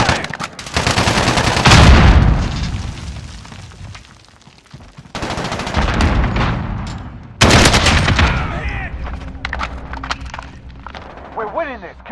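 Rapid bursts of automatic gunfire and explosions crackle through a Call of Duty: Modern Warfare team deathmatch in the Azhir Cave map, loud and dense, with brief lulls between barrages and voices shouting over the fighting.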